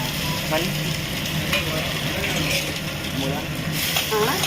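Tadka tempering with red chili sizzling in hot oil for kadhi rice, a dense steady crackle with bursts of spattering, fairly loud throughout.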